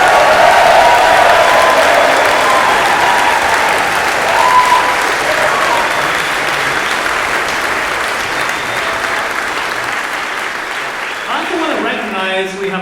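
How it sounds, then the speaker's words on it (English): Audience applauding volunteer musicians at a concert intermission, a steady, full round of clapping that fills most of the stretch, then thins out as a voice begins talking near the end. "Could I please get a warm round of applause for all of you?"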